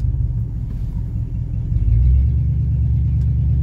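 Oldsmobile car on its first test drive after a new transmission, a steady low engine rumble from inside the cabin that swells louder about halfway through as it accelerates.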